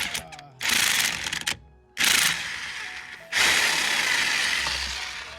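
An impact wrench removes a 17 mm nut while a steering wheel is being swapped, firing in three loud, rattling bursts separated by short pauses, heard close by.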